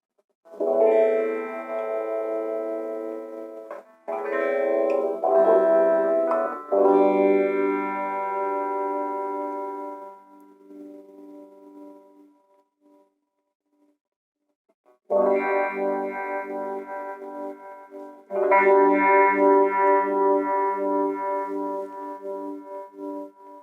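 Sustained electric guitar chords with a sweeping, swirling phaser effect, ringing out in several strums separated by a brief quiet pause.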